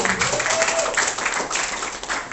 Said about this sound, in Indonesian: Tepuk tangan buat AFC